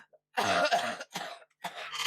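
A person coughs close to the microphone in a quiet room, three harsh bursts in a row with short pauses, the last trailing into throat clearing.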